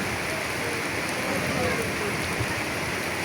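Steady afternoon rain falls over Dhaka after a hot, sunny day, a dense even hiss of drops on surfaces that holds at constant loudness throughout with no gaps.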